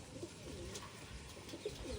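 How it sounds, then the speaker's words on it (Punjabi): Pigeons coo in a rooftop loft after bathing in a water tub, soft low repeated coos rising a few times over a steady background hiss, close by and without talk. "ਸਾਰੇ ਕਬੂਤਰ ਨਹਾ ਲਏ"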